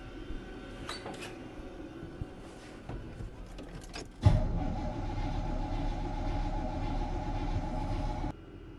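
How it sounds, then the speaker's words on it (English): Square-body truck engine fitted with a Holley 750 carburetor cranking over without firing, a steady mechanical churning that starts abruptly midway, runs at an even level for about four seconds, then cuts off, with faint rattles before it. "So I'm gonna go ahead and crank on it and we'll see if it builds some fuel pressure."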